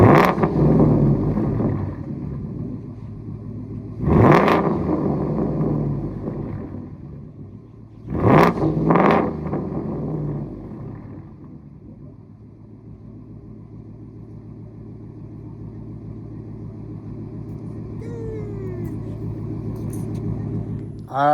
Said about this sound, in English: I'm gonna give you guys a little bit of revs, not something too crazy because the truck is very new